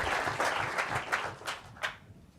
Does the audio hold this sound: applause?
yes